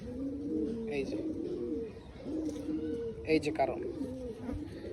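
Pigeons in a home loft coo in low, rolling murmurs, heard steadily beneath someone talking close by.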